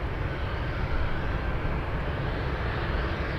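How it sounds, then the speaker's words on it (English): Jet engine roar from an Atlas Air Boeing 747 cargo freighter arriving at Anchorage after a flight from Shanghai, a steady broadband rumble at moderate distance without speech. "We just had an arrival of a 747 Atlas 812 flying in from Shanghai, China."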